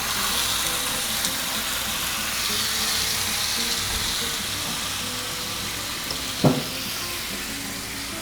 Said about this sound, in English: it's a pretty thin steak. And we're just gonna cook it there. And we're gonna throw some onions on it.